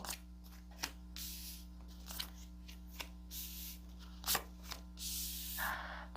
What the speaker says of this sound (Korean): 카드를 좀 뽑아보도록 하겠습니다